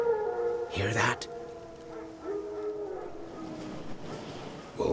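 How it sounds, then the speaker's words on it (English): Wild dogs howl in a Witcher 3 game scene, long wavering tones, one voice rising and falling at moderate distance over a low ambient bed, with brief rustling noise and someone speaking faintly. "Wild dogs. Yes. More dangerous than wolves."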